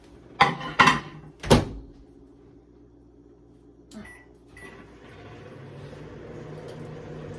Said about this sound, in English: I'm just gonna zap this for 1 minute to melt my butter.